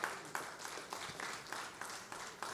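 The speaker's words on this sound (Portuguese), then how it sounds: "Vamos aplaudir esse que é chamado São José, irmãos." A church congregation applauds during a Christmas sermon: faint, scattered clapping in uneven bursts, fairly distant and quiet.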